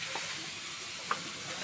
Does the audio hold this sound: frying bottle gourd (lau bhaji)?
yes